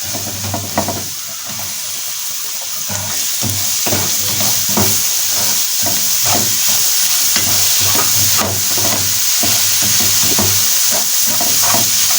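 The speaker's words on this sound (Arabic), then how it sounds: "كده هشوحهم كويس" Tomatoes with black pepper and other spices sizzling in a pan while being stirred, a loud, steady frying hiss broken by repeated scraping stir strokes, close up throughout.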